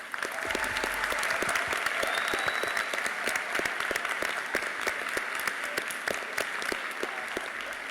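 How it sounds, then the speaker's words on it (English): Debate audience at the 2019 World Schools Debating Championships grand final applauds the speakers, a sustained, dense wash of clapping from a large hall lasting several seconds without voices. "Can we give them all another round of applause?"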